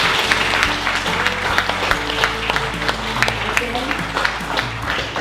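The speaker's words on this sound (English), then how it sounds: "Let's give her a big round of applause." An audience applauds at a book launch, a dense patter of many hands clapping nearby and fairly loud, running steadily with a few sharper individual claps and faint voices mixed in.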